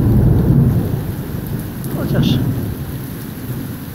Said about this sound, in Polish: słychać, jak uderzają pioruny, jak uderzają, jak grzmi.